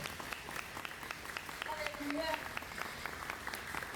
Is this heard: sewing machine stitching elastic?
no